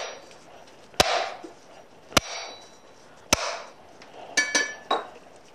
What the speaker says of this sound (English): You take the back edge of your cleaver, you just go around the perimeter of the coconut.